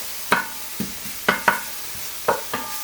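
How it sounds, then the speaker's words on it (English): Garlic and onions are sautéed in a pan, with a spatula scraping and tapping in quick, close strokes over a faint steady sizzle. "And just quickly give this a little saute."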